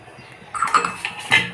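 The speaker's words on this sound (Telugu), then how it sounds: "ఇలా బాగా మసిలేటప్పుడు వరి నూక ఇందులోకి వేసేయాలి" Broken rice semolina poured into a pot of boiling salted water, giving a few bright clinks and rattles against the metal pot over about a second, close and fairly loud, with no talking.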